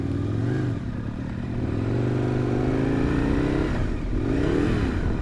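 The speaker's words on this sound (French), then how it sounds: "Ce petit bruit qui fait le moteur là," Aprilia RSV Mille motorcycle engine running close up with a steady, rumbling throb, rising and falling slightly as the revs shift, with a brief climb in pitch near the end and no talk over it.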